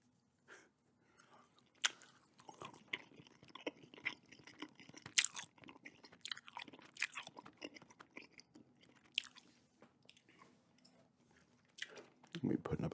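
Gum chewed close up with wet crunches, smacks and biting sounds in an irregular rhythm, quiet and intimate, with brief breathy pauses between chews.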